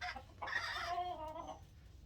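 An upset hen in a coop clucks in a short agitated burst of squawky calls, close and fairly loud, with no one talking over it.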